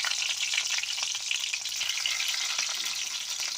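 Chopped garlic and cumin seeds sizzle steadily in hot oil, a loud, dense crackling hiss that continues without pause and with no voices.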